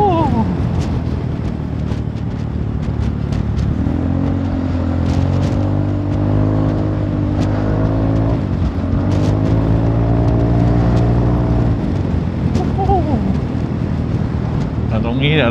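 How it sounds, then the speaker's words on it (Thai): A Ford F350 pickup's engine revs while driving on a road, its pitch climbing and falling in rising sweeps over a constant low drone and buffeting wind noise, with someone talking over it. "ได้เร่งเครื่องหน่อย"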